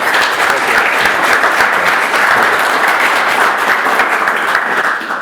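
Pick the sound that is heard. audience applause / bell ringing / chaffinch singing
audience applause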